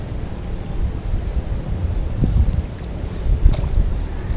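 Strong wind buffets the microphone with a constant low rumble, with a few faint knocks over it.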